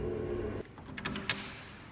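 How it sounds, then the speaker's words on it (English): An elevator door slides open: a steady mechanical hum cuts off, followed by a few soft clunks and a brief sharp hiss of the door moving, close and fairly quiet. "I panically rushed in as the elevator door slid open."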